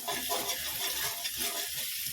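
Food fries in a pan, filling the space with a steady, close hiss and crackle. Light stirring is heard and nobody speaks.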